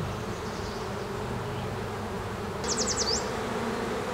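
A honeybee colony hums with a low, continuous buzz close by, and a brief series of higher piping chirps rises out of it near the end.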